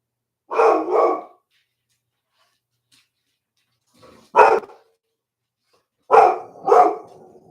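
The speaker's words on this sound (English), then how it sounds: "They're barking because the truck pulled away." Several dogs bark in short bursts near a porch after a truck pulls away: a double bark, a pause, a single sharp bark, then another double bark, loud and close with silence between.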